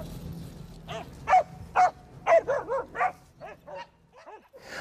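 Russian-European Laika dogs barking during training, a series of about ten sharp, fairly close barks and yips in an uneven rhythm, with some whimpering at the end.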